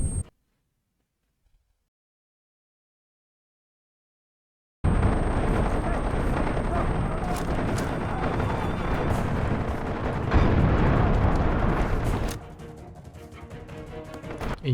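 In the Far Cry 2 game, a gunfight between rival factions rages outside a hotel: after a few seconds of near silence, a dense, steady barrage of gunfire and blasts suddenly starts and continues loudly, then eases slightly near the end.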